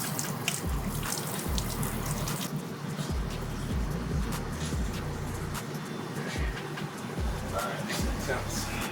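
Shower water runs in a steady wash during a post-workout cold rinse, with a continuous splashing hiss and low rumbling under it that carry on without a break.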